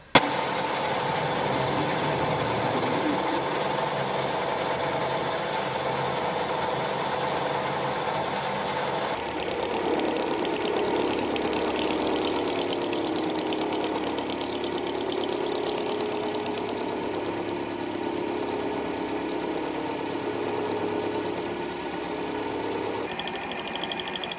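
Clevis forks are machined in a workshop, with a continuous mechanical hum and whir running throughout and the machine's tone shifting partway through. Nobody speaks over it.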